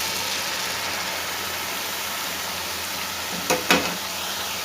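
Chopped bottle gourd and ridge gourd hitting a pan of well-fried masala, a soft steady sizzle with two brief louder bursts near the end as the pieces go in.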